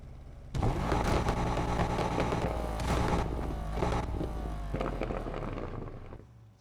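McLaren F1 in the racing game NFS Unbound revving hard with a loud, raspy exhaust, rising and falling through repeated throttle blips and gear changes before fading out, with no talking.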